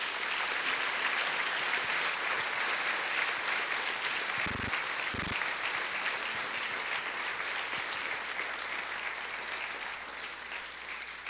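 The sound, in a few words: applause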